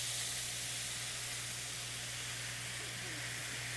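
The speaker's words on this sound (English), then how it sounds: "We're going to deglaze." Pork stock poured into a hot seared pan to deglaze it sends up a broad, steady steamy hiss and sizzle with a low hum beneath, faint overall and unbroken throughout.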